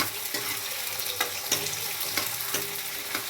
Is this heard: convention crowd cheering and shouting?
no